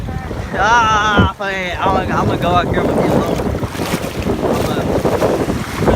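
Strong wind at the beach buffets the microphone with loud, continuous roaring gusts over the sound of surf, while a person talks close by at the start.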